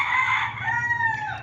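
A rooster crows once, close and loud, a single drawn-out call that rises and then trails off over about a second and a half, with a faint low background hum.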